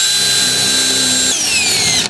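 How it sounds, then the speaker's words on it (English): A power drill with a 9/64 bit bores a pilot hole for a Ford F Series mud flap, a loud whining motor that runs steady, then shifts pitch as the bit cuts through and winds down. "we're going to ask you to take a drill, a 9/64 drill,"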